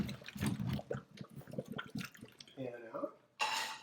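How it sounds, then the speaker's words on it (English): Hot boiled potatoes rinsed in a colander, speech over the first part, then a gurgling run of water near the end and a sudden loud rush of tap water in the final half second. "So we'll rinse those off in the colander."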